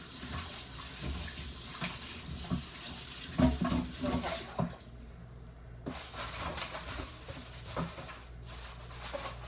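A cutting board is rinsed under a running kitchen tap; a quiet steady stream of water hisses, with the board knocking and clattering in the sink, and the flow briefly stops before starting again.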